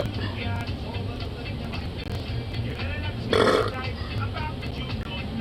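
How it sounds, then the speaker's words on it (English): A single loud, raspy burp after drinking coffee erupts midway, brief and close, rising out of a steady rumbling background while a person speaks around it. "It's the first time I had a burp out of a coffee in a long while."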